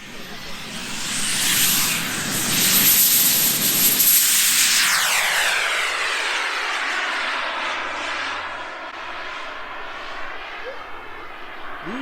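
A tiny Xicoy X45 turbine jet engine on a MIBO Swift model glider screams past, its whine swelling loud and then sweeping down in pitch as it passes and fades into the distance.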